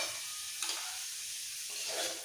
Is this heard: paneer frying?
yes